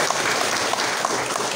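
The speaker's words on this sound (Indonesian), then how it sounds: "Tepuk tangan dulu untuk Pak Bowo." An audience at a school principal farewell and welcome ceremony at SMA Negeri Raksa Budi gives Pak Bowo steady, dense applause, with many hands clapping close together.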